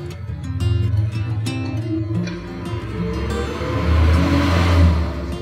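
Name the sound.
motor of a wood planer (korter) machine running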